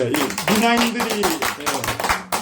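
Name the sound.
audience clapping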